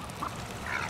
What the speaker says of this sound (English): Holly, your duck is not gonna fly.